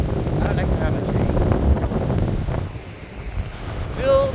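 Strong wind buffets the microphone at a beach in Bredene on the Belgian coast, with the rush of sea waves underneath; the roar is loud and steady, and a voice briefly speaks near the end.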